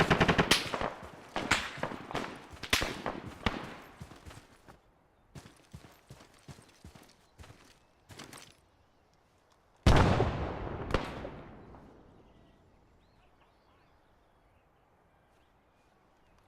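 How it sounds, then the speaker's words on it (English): Gunfire in the Antistasi mode of Arma on the Sahrani map: rapid automatic bursts crack loudly at close range, then thin out, before one heavy blast rings out and fades into a long, echoing tail. "I'm getting shot from 2 different directions."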